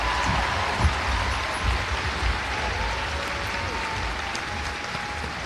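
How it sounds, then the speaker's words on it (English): Audience applause fills a graduation commencement ceremony hall, a steady wash of clapping that runs throughout with a low rumble of crowd noise and faint voices beneath. "please give them another round of applause"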